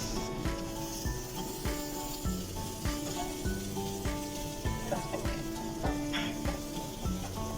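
Garlic fries in sesame oil in a pan, a loud, constant sizzle with rhythmic scraping and stirring strokes over it.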